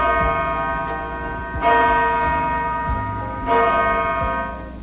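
A large bell struck twice, each blow opening a rich, sustained ringing tone that decays slowly before the next strike, with no voices.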